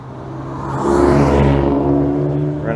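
Renault Clio driving on the Goodwood Motor Circuit during a retro car weekender, its engine note rising into a loud, steady accelerating drone with clear harmonics, close by and alone.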